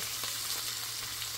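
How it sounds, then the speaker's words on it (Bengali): Flour frying in butter in a pan, giving a steady, close hiss of frying with a low hum underneath. "ময়দা দিয়ে একটু ভেজে নেব, যেন ময়দার গন্ধটা চলে যায়"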